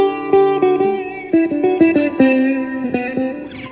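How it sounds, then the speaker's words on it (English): Electric guitar run through a modeling unit set to a sitar patch with light reverb, playing a twangy melodic phrase of plucked notes with buzzing, drone-like overtones, clear and up front, no talking. "I've got kind of the stock, the bank down with a little less reverb and different, and a sitar instead of an acoustic guitar"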